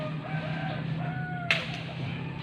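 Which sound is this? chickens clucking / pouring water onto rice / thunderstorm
chickens clucking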